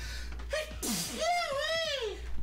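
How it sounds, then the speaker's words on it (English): A mascot character named Robert lets out a single sneeze in a Bully game scene, a short burst followed by whimpering, gasping vocal sounds, with a voice nearby. "He sneezes"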